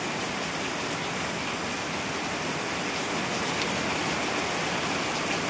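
Heavy southwest monsoon rain pours without pause onto a home terrace, a loud, dense, even hiss close by with no talking.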